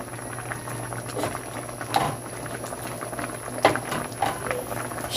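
Chili broth with labuyo peppers boils in a pot at home, a steady close bubbling and popping with small louder bursts, no voices over it.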